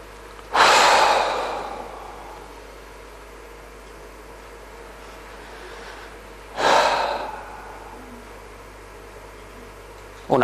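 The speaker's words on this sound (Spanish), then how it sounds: "Una más, una respiración más." Deep breaths during a guided breathing exercise come as two loud, close inhales several seconds apart, each followed by a slowly fading exhale, with a third breath starting at the very end.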